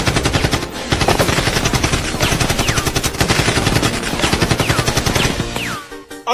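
A comedic Pokémon-style battle with Dancehall artists carries a gunshot sound effect: rapid, loud machine-gun bursts, rattling and repeating at high speed, with brief whistling sweeps over the firing before it cuts off.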